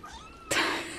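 Indoors, a kitten gives a sudden, close, loud meow after a quieter trailing cry, a brief pair of calls with no speech.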